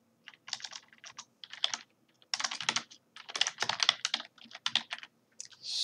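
Quick bursts of typing on a computer keyboard, close and crisp clacking in uneven clusters separated by short pauses.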